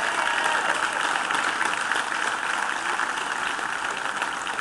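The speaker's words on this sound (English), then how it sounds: "Give yourselves a round of applause." A crowd at an outdoor Labor Day tea party rally applauds, a steady rain-like hiss of many hands clapping that carries on evenly and fades slightly toward the end, moderately loud with no speech.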